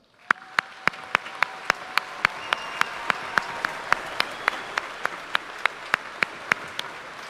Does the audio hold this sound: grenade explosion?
no